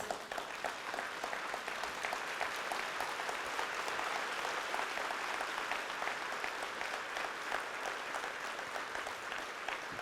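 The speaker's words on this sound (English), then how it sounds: "I request everyone, give a big applause." Sustained applause from a large crowd, dense and even clapping filling the whole stretch without pause.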